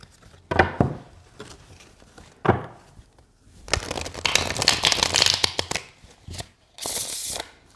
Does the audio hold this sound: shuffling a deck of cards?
yes